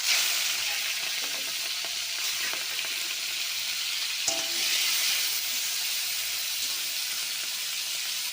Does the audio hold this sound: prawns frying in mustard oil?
yes